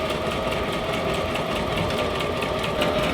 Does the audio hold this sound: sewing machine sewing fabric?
yes